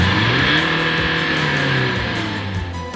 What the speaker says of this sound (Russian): Звук двигателя при этом сравним с рыком хищника перед атакой.